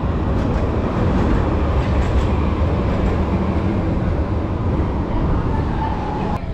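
Loud, continuous rumble and roar of an Istanbul metro train running on rails, heard from inside or close by, steady throughout with no speech.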